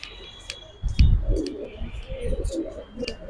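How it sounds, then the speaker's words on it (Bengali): Giribaz pigeons and silver bezi pigeon chicks make soft coos and rustling clicks at close range, with a thump near one second and a voice talking intermittently. "সবগুলা বাঘা বেজি কবুতর সিলভার বেজি কবুতরের বাচ্চা"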